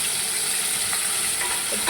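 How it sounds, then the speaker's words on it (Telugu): Chopped onions, coriander and fenugreek frying in oil in a kadai, a loud continuous sizzle with stirring scrapes, close and steady with no talking. "ఫ్రై చేసుకోవాలండి. ఫ్రై చేశాక"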